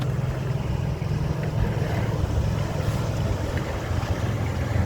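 A line-fishing boat's engine returning near the Raz de Sein, a steady close rumbling drone with wind and water wash, holding at a constant loud level throughout.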